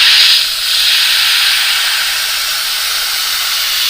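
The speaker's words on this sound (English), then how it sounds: "I realize it's hard to hear me once the compressor kicks on." An airbrush compressor runs while paint is sprayed through a budget airbrush, giving a loud, steady, close hiss throughout with a brief sharper burst at the start.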